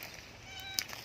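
A single faint meow with a thin tonal whine, short and alone against a quiet background.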